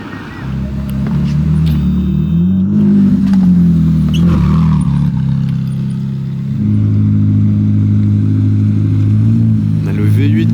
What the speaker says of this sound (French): On a le V8 qui vient de démarrer là.